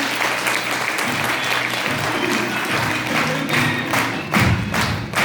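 An audience at a business seminar claps loudly for a guest, with vigorous continuous applause mixed with heavy thumps and stamping, close and full throughout.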